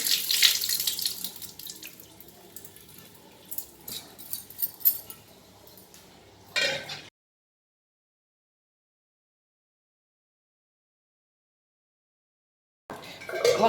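Water pours and splashes for several seconds, then stops abruptly into silence before a short burst of splashing returns at the end.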